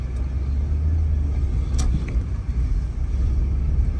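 Interior road noise from inside a moving car: a constant low rumble of tires and engine, steady and fairly loud throughout, with one brief knock partway through and no talking.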